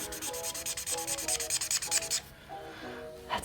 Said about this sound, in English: So I'm gonna use this chisel nib first.